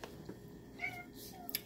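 A pet cat meows a couple of times, brief and fairly faint, against a quiet indoor background.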